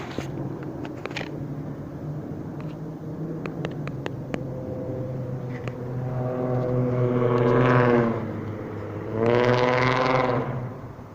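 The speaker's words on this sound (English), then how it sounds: "That is another airplane flying directly behind me over my head at Ontario Town Square" A propeller airplane passes overhead above Ontario Town Square, its droning hum swelling twice to a loud peak over steady outdoor background noise.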